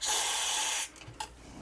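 An aerosol spray can of cleaner hisses into a vintage Sony TC-K22 cassette deck in one loud, steady burst lasting under a second, followed by faint small clicks and handling noises.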